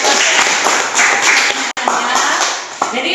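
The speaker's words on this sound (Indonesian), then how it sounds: "Tepuk tangan dulu." Dense, continuous applause from a classroom of students, loud and close, with a brief dropout partway through and scattered voices mixed into the clapping.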